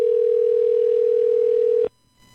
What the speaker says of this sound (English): So we are hearing a ring.